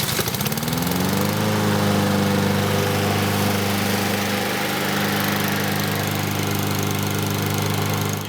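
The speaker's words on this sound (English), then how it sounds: "Once I start this back up, you'll see it'll start cleanly." A push lawn mower engine pulls over and catches, its pitch rising quickly and then settling into a steady, loud, even running drone close by.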